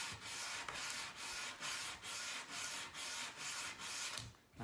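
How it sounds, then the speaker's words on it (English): Sandpaper rubbing by hand along the arch of a wooden tray handle, a steady rasping scrape in even back-and-forth strokes about twice a second, close and alone. "So I'm going to sand the arch."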